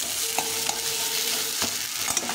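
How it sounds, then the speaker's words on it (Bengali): Potatoes fry with spices in a pan before water goes in for a curry, with a dense, constant sizzle and a few sharp clicks of a spoon or spatula stirring, near and fairly loud, no talking. "তো মশলার সঙ্গে আলুটা ভাজা হয়ে গেছে"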